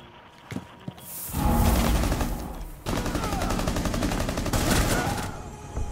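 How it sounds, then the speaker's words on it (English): Gunfire rips through a wall in Rainbow Six Siege: a short shot and burst first, then two long sustained automatic volleys, loud and close. "I was shooting right through this fucking wall, dude."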